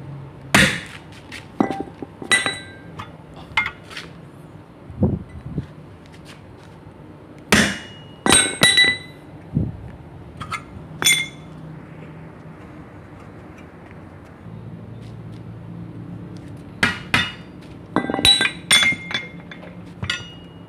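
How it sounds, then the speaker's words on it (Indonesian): A hammer strikes during the change of a worn, bald outer tire, giving sharp metallic clinks in scattered single hits and quick clusters, loud and close, with quiet pauses between them. "Nanti kalau ada yang susah bisa dibantu dengan seperti yang di palu ya."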